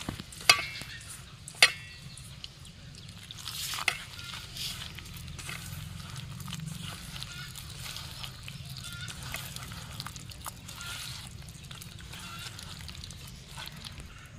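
Hand-mixing batter for beguni, a Bengali eggplant fritter: soft, wet squelching and stirring at close range, steady and quiet, with a few sharp clicks early on and faint speech in places.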